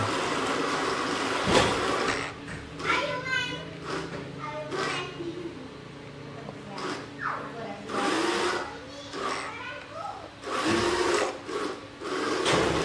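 A homemade ESP32 remote-control toy car with an ELRS receiver drives forward, reverses and spins in place in a small room, its motors whirring in repeated short bursts while someone talks over it.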